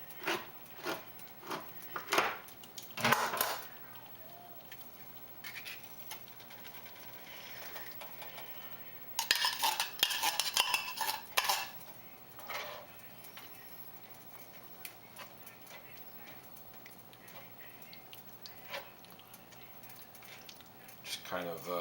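A spoon works tomato sauce and tomato paste together in a pot of pizza sauce, giving faint intermittent clinks and thick wet squelches in scattered bursts, with a person talking between them.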